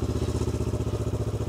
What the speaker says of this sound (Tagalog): Okay, start. Start natin yung motor.